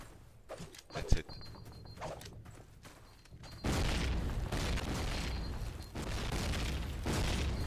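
Grenades go off in Call of Duty 1 during a competitive match on the Burgundy map, giving a sharp boom followed by sustained heavy rumbling blasts under a commentator's voice.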